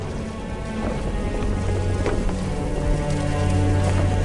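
A violent electrical thunderstorm with heavy rain, loud steady downpour layered with deep rolling thunder rumbles that swell toward the end.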